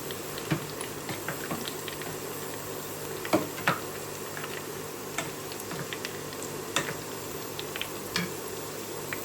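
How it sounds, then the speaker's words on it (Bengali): Onions fry in a pan for Bengali chicken bhuna, giving a steady, close sizzle with scattered small pops and crackles and no talking. "এখানে হচ্ছে আমি বন্ধুরা পেঁয়াজ ভাজতে দিয়েছি"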